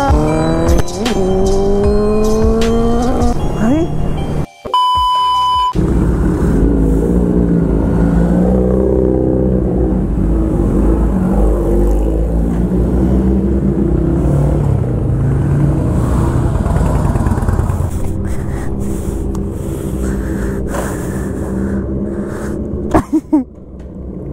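A motorcycle engine on a ride from Mumbai to Malshej Ghat revs loudly and close, with rising pitch sweeps, a brief cut-out, then a sustained throaty rumble that swells and settles, with no talking.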